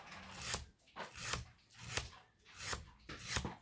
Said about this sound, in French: Donc oui, on peut affûter nos ciseaux.